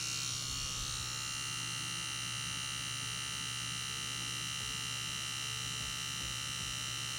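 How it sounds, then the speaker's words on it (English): An Ez Tattoo nano tattoo machine with a 3-round liner cartridge runs at 5 volts doing dot work, giving a steady high-pitched electric buzz with a low hum beneath, continuous and close. "see if these little nano machines are capable of doing dot work"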